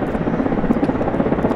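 Mi-24 military helicopter hovering in place and slowly turning through a full circle at a NATO Days air show, a steady close rotor thump and turbine roar filling the whole stretch without pause.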